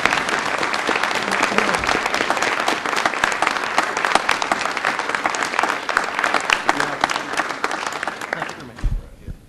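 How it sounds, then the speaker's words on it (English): City council audience giving a big round of applause for law enforcement officers and their families, sustained dense clapping that tapers off at the end. "Let's give them all a big round of applause."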